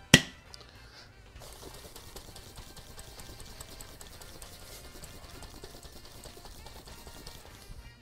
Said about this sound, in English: doing a dry shake following the wet shake